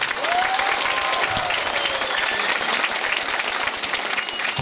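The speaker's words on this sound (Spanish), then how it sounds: "quiero que me le den un fuerte aplauso a ella" A crowd of townspeople applauds loudly and steadily at a Sunday community gathering with speeches, dense clapping sustained throughout with a few cheers rising above it.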